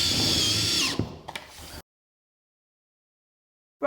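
A power drill drives screws with washers into insulated metal-clad roof panels on a garden room, a close, loud whirring run of about a second followed by a couple of short clicks, then silence.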